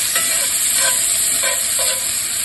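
Steak bites sizzle hard in a hot cast iron skillet, a loud, steady hiss of searing fat with faint rhythmic pulses as the meat shifts in the pan.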